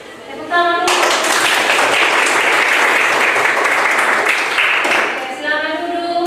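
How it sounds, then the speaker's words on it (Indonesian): A classroom of students bursts into loud, sustained applause, dense clapping filling several seconds before tapering off, with a teacher's voice briefly heard before and after. "Tepuk tangan dulu."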